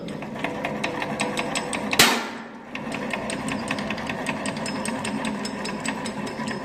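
A petrol engine's crankshaft is turned by hand during disassembly, giving a fast, regular train of close mechanical clicks and ticks, broken by one sharp metallic clank early on.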